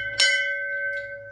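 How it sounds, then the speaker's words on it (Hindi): A temple bell is struck once, giving a bright clang that rings on with a steady, sustained tone through the rest of the moment, loud and close with a faint second touch near the end. "ये मंदिर घंटी बजा बजा दी"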